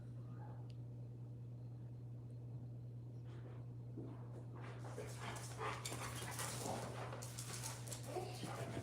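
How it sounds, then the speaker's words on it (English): Several dogs indoors give a low whimper early on, then turn to scrabbling, panting and restless noise, faint and distant behind a steady electrical hum. "My dogs are gonna come attack me right now."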